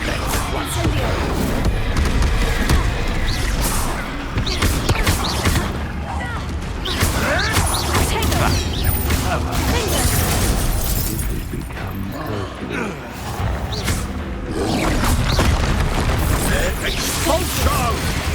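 Repeated Expulso spell blasts and explosions from Hogwarts Legacy crash and shatter almost continuously, dense and loud, with voices talking over the combat throughout.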